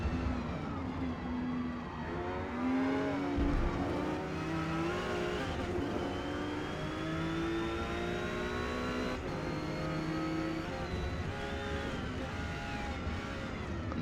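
A Porsche 911 GT2 race car in Forza Motorsport, R class at Mid Ohio, roars steadily as the engine climbs through gears with rising and falling revs, loud and continuous without speech.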